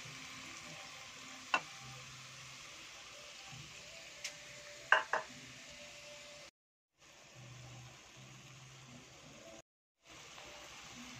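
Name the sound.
egg frying in a pan with bitter gourd (ampalaya)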